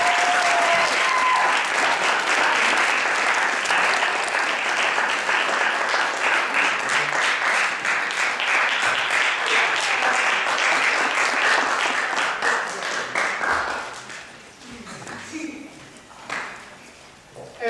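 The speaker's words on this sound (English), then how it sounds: "But y'all start clapping, making noise, showing love." Sustained audience applause and clapping at a teen artistic expression event, loud and dense for about thirteen seconds before thinning into scattered claps and fading.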